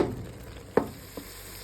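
Masala with chili flakes frying in ghee sizzles quietly, broken by two sharp stirring clinks against the pan, the first louder than the second; no voices.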